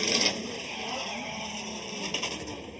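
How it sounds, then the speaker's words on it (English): A distant drift car engine running rough at Ebisu circuit, Japan, drones at high revs with a strained, uneven tone, joined by occasional tire scrape and bursts of roar. "sounds like he's having a little bit of engine issues running through the track"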